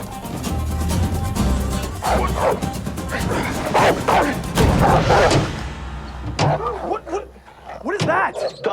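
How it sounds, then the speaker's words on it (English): A dog outside gives a run of yipping barks and whimpers, loud and close, with people talking over much of it. "It's a dog."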